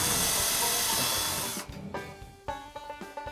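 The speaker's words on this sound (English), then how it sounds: "we'll drill a hole," A loud, steady power drill whines continuously while drilling a hole in a wall, then cuts off abruptly, leaving a few scattered knocks and clatters close by.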